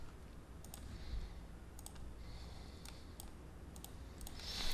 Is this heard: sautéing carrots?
no